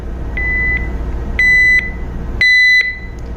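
Sound test on a JRC JAN-9201 ECDIS marine navigation unit: three clear electronic beeps, each a short double tone repeating at about one-second intervals, loud and clean over faint background hum.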